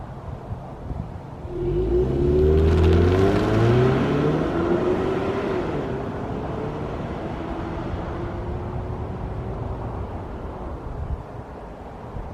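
A Ford Mustang EcoBoost pulls away, its engine note climbing through a couple of rising gear sweeps into a loud, steady drive with wind rush, no talking over it.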